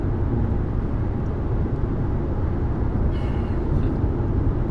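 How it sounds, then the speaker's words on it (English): An airplane flies overhead in wide open Western countryside, a steady broad low rumble that stays constant throughout, fairly loud with no voices. "We got a plane up here."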